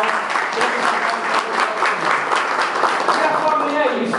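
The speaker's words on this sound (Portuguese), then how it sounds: "salve de palmas" An election gathering of a municipal association erupts into applause for a president, loud, dense clapping from a crowd close by, with voices and cheering mixed in throughout.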